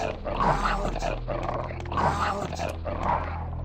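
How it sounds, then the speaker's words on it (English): Zombie dogs in the Resident Evil (1996) game snarl and growl in repeated aggressive bursts, a rhythmic pulsing of guttural growls over a low constant game hum. "Fucking dogs."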